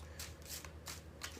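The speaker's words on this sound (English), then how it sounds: "All right, 3 more shuffles," Tarot cards being shuffled by hand in several quick riffling bursts, close and fairly quiet, with short pauses between them and no talking.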